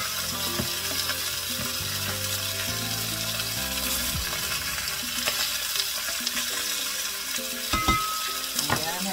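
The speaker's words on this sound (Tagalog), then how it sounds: "Hayaan muna natin medyo maprito yung isda natin." Tilapia and ginger fry in a pan, giving a steady close sizzle and crackle throughout. Scattered clinks and stirring knocks sit on top, and no voice is heard.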